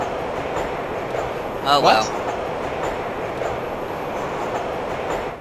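A train passes in the Nancy Drew game Shadow at the Water's Edge, a rumbling, clattering swell that peaks briefly with a squealing wheel screech, heard under a steady rail rumble while a person speaks briefly.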